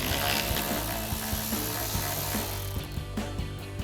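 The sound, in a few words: 7mm socket ratchet removing a bolt on a Corvette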